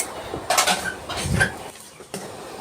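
Mung dal and vegetable chachchari stirred in a pot gives short scraping and clattering bursts of a utensil against metal, close and moderately loud, with brief pauses between strokes.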